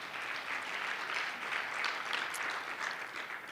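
A crowd applauds steadily, with dense, even clapping held at a constant level throughout with no voices over it.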